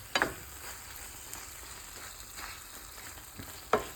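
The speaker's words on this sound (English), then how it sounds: "And we are going to cover this, and we are going to let this simmer." Sticky spicy honey garlic chicken with cornstarch simmers in a covered pan, giving a steady soft sizzle and bubbling hiss throughout, with a couple of brief louder clinks or knocks near the start and end.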